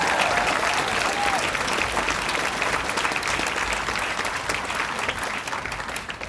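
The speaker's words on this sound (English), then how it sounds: "Give them the biggest round of applause." Large outdoor crowd applauding at the grand opening of a bridge in Washington State, a dense steady wash of clapping with some cheering that holds for several seconds and eases slightly toward the end.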